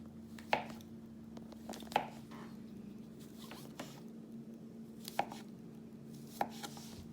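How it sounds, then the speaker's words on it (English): A knife slices through mushrooms on a board in about five quiet, separate cuts spaced irregularly, each a short crisp tap against a faint steady hum. "got my mushrooms all cut up, sliced"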